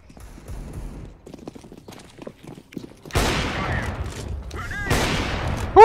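In a Counter-Strike: Global Offensive match, quiet clicks and footsteps give way to loud, sharp bursts of rapid gunfire at about three seconds and again near the end, with players' voices in between.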